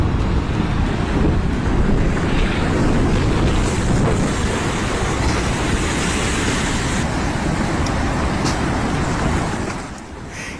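Tsunami flood water surging through rivers in Sendai, a dense black torrent carrying debris, heard as a continuous loud, broad roar of rushing water and wind that holds steady throughout and eases slightly at the very end, with no voices.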